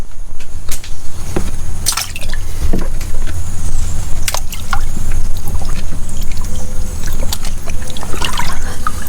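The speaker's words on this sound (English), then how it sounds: "let's go ahead and get a bucket and start emptying some of the water" A bucket scoops and pours water out of a homemade cold-water immersion tank for an ice bath, giving close, loud sloshing, splashing and trickling in uneven bursts, with no talk.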